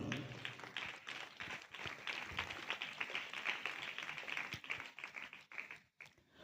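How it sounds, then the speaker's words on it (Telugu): A church audience claps together during a sermon in a dense, steady burst of applause that carries on for several seconds before briefly fading and resuming. "చప్పట్లు కొట్టాలి"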